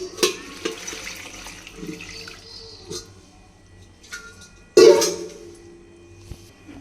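Water splashing and trickling in a kitchen as it is poured over chopped cabbage and tomatoes for a curry, with a few sharp clatters and a louder splash near the end, no talk.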